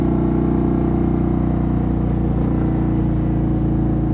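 A Harley Davidson CVO Road Glide ST with a 135 engine decelerating under engine braking, giving a steady, loud low rumble with a constant drone and no clear rise or fall.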